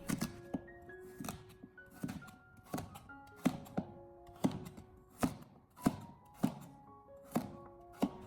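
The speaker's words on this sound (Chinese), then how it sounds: "最后再将其给它改刀切成芋头丁" A kitchen knife chops taro into small cubes on a cutting board, producing steady, evenly spaced thuds and taps recorded close up, repeating around a dozen times.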